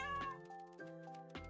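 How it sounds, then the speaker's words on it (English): A cat in Minecraft gives a few short meows and mewing cries in quick succession, clear and close over steady game music, with no purr standing out. "Oh, look at the kitty! He's purring!"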